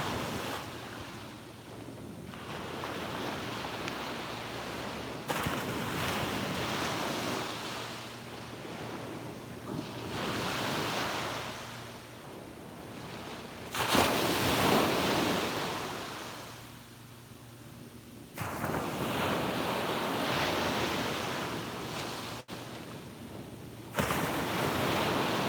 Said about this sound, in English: Soak in the sounds of these waves for one more minute